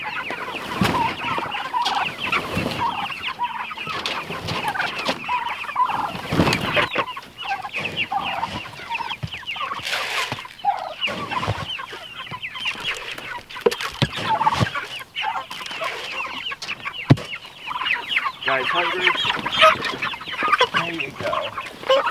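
Busy chorus of chickens, meat birds, clucking and chattering, many birds close by, continuous and lively throughout with occasional louder squawks.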